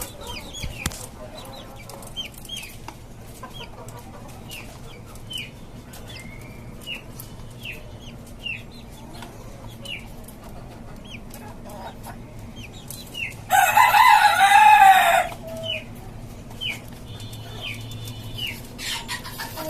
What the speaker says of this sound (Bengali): এইখানে আছে আমার আরও কিছু বাচ্চা ছিল মুরগির